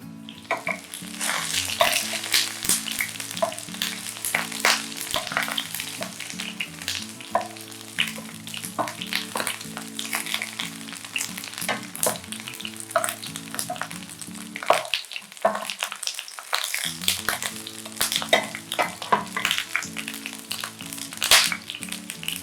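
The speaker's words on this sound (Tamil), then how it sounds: "நல்ல ஆயிலில் வந்து நம்ம ஒரு 5 மினிட்ஸ்க்கு வந்து இதை வதக்கணும்" Brinjal sautés in oil for a Muslim-style biryani side gravy, a dense crackling sizzle with constant spatula scrapes and knocks against the pan, steady and close throughout, with a low hum underneath.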